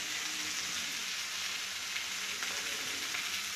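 Spices, salt, turmeric and coriander powder frying with vegetables in a pan, giving a steady, close hiss of sizzling with faint crackles and no talk.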